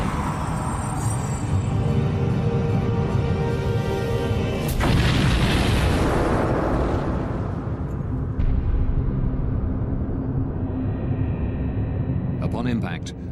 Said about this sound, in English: Upon impact, the Bashkirian charter breaks into 4 pieces.